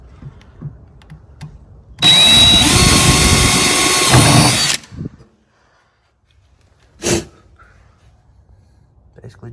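A drill with a 1/8 inch bit bores out a spot weld on a totaled Tesla Model 3's body, one loud close whirring burst of about three seconds, with quiet clicks and movement before and a brief thud afterward.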